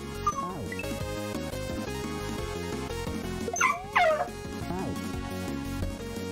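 Several dogs barking and whimpering over continuous game music, with short yips and whines rising above a steady musical background; the dogs are fairly close and keep going throughout.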